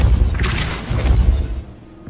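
Depulso spell cast in Hogwarts Legacy: a single deep, forceful boom that swells and fades within about two seconds, alone with no talk.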